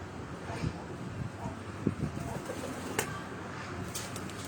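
Breeder pigeons on a rooftop, soft low cooing under outdoor wind noise, fairly faint with a few sharper clicks and knocks scattered through.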